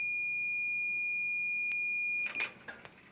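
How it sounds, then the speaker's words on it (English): A multimeter's continuity test on a clothes dryer's door switch, with the door closed, gives a steady, high-pitched electronic beep for a couple of seconds, then cuts off amid a few soft clicks and scrapes. "you should have continuity on the multimeter and hear a beep"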